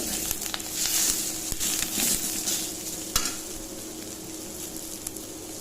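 Chutney ingredients with green chillies and ridge gourd frying in a pan, giving a soft continuous sizzle with intermittent stirring clinks and scrapes, fairly quiet and without talk.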